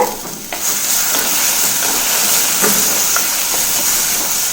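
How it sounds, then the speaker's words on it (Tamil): Chopped capsicum sautés in hot oil, a loud, steady sizzling hiss close by, with a few stirring scrapes, particularly near the start. "ரெண்டு குடமிளகாயை குட்டி குட்டியாக கட் பண்ணி வச்சுருக்கோம் இதை சேர்த்துட்டு நல்லா எண்ணெயில் பச்சை வாசனை போக ரெண்டு நிமிஷம் வதக்கி எடுத்துக்கலாங்க"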